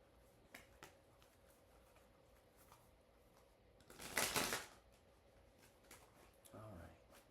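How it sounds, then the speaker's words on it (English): Tarot cards are shuffled by hand at close range, giving soft intermittent riffles and snaps with one louder burst of card shuffling midway, while a person talks quietly at times. "while I shuffle the tarot"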